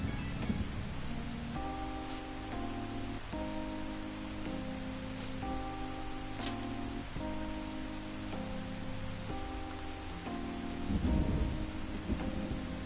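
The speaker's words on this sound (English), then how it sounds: "I love how thunderstorms sound in this game." A video game thunderstorm, with steady rain hissing and low thunder rumbling, plays under soft game music tones, with no talk.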